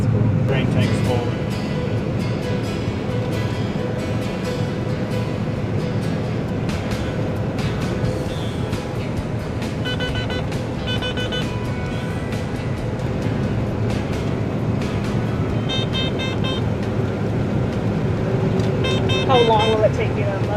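A combine harvester unloads grain through its auger into a tractor, heard as a steady machinery drone from inside the cab beneath ongoing conversation, with faint intermittent clicks and tones.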